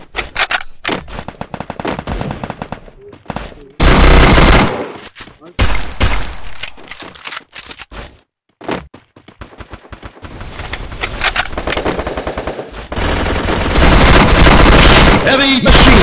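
Heavy machine gun fire in a mobile shooter game, loud rapid bursts broken by short pauses and then long sustained streams, with other gunfire mixed in.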